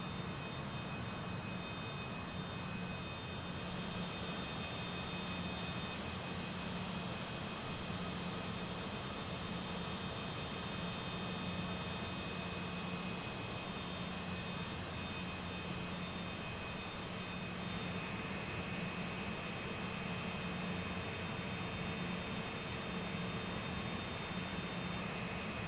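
A Cessna Citation CJ4 business jet takes off from Manchester in a flight simulator, its engines giving a steady, loud, unbroken roar with a broad hiss throughout the run.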